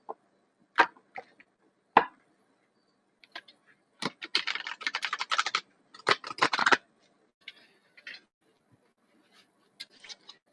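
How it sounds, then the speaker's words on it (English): A tarot deck is cut and handled close up, with scattered sharp clicks and brief rustling bursts of card shuffling in an otherwise quiet room. "I'm going to cut the deck."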